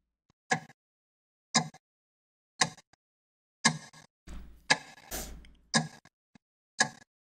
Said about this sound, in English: Why does the clock sound like that?